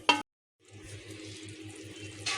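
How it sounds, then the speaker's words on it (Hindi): Water is poured into a pressure cooker holding chicken and tomato for a chicken curry, a steady splashing pour that follows a brief clatter and a short silence. "चिकन जो है उसमें मैंने टमाटर के साथ ऐड किया है थोड़ा सा पानी"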